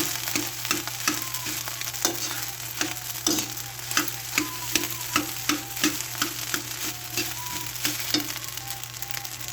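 Rice frying in a pan (sinangag), a steady close sizzle with regular rhythmic scrapes of a spatula stirring the rice against the pan.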